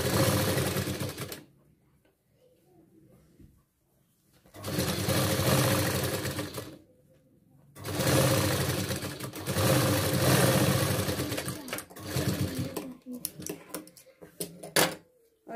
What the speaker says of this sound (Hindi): पास वाली सिलाई लगाएंगे, कैनवस के पास से सिलाई लगा रही हूं मैं।